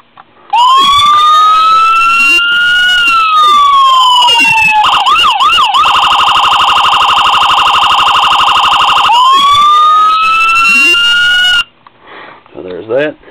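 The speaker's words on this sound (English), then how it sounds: "Siren, same old setup. Nothing crazy if I hit the right button." A toy police siren on a 1:24 scale diecast Dodge Charger Pursuit model with working lights wails in loud electronic sweeps, switching to a rapid yelp pattern midway, then returning to the wail before cutting off abruptly near the end.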